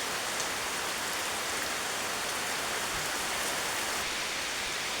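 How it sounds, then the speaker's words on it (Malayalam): Steady rain pours over a fish pond beside an eatery set in the middle of the pond at Kattalappara, in a forested spot, making an even, dense hiss with no voices. "ആ മനോഹരമായ കാഴ്ചയെ അതിമനോഹരമാക്കാൻ വേണ്ടി ഒരു മഴയും കൂടെ അങ്ങ് പെയ്തു"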